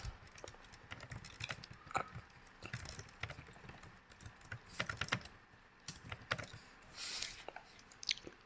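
Typing on a computer keyboard at a desk, a steady run of close, crisp key clicks with brief pauses and a few louder strikes, alone without talk.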